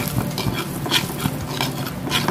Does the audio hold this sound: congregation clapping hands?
no